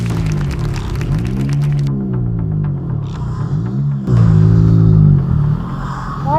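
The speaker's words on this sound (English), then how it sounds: "Why is my car dying like that?" A lowered stance car's engine loses power and dies while driving, its throbbing drone sagging and surging unevenly in pitch and loudness, close and continuous, with no speech.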